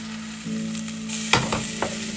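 Onions frying in a pan with salt, giving a steady moist sizzle and a couple of sharp stirring clacks, close and fairly loud; no talk.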